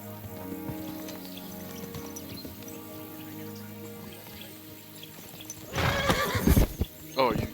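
A horse in the video game Kingdom Come Deliverance 2 neighs and whinnies, with clip-clopping hooves, in a loud, close burst near the end, following a stretch of sustained in-game music.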